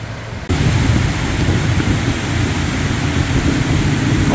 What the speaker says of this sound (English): But yeah, this waterfall